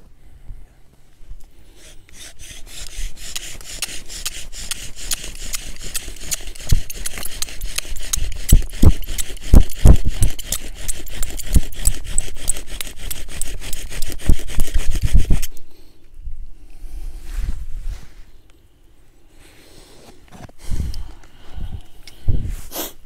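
Rapid back-and-forth rasping of a bow drill grinding against wood, steady and close for a long stretch, then stopping into a few scattered scrapes.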